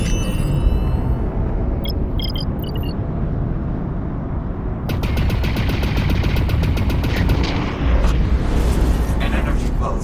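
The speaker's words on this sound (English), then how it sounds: "An energy pulse from the anomaly." A sudden energy pulse from the anomaly in Lone Echo 2 cuts in midway as a loud, dense burst of rapid crackling over a heavy sci-fi rumble, following quieter droning ambience with faint chimes.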